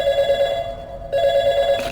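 A telephone call rings in the video game Portal 2: a steady electronic ringing tone cuts out briefly and then resumes, loud and close, with no talking.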